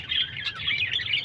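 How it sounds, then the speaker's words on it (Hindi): Several pet parrots, four kept together in one cage, chirp and tweet in a steady, busy stream of shrill calls close by, with no talking. "और बाकी ये देखें तोते, हमारे 4 तोते सिर्फ इधर इस पिंजरे में"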